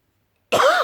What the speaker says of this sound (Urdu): ایک کھانسی آ گئی بھائی